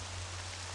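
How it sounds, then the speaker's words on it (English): Rain pours on city streets in a PlayStation game demo, a dense, even hiss that runs without a break over a low, steady hum. "I guess, Ikunoichi running through the streets here in the rain."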